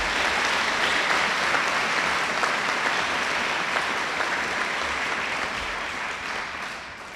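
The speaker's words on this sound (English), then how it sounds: "So can we please honour them tonight by giving them a round of applause." A full room of students and families claps steadily for the student voice group at a 2018 school awards night, a dense, even wash of applause that tapers slightly near the close.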